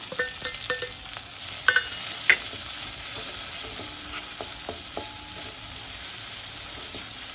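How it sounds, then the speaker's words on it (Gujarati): Chopped onion dropped into butter with sautéed garlic for a cheese corn tomato soup, a few sharp clinks and scrapes at the start, then a steady, even sizzle with occasional spatula strokes, no talking. "લસણ સંતળાઈ ગયું છે એટલે એક ડુંગળી છે મેં સમારી લીધી છે, એ નાખી દઉં."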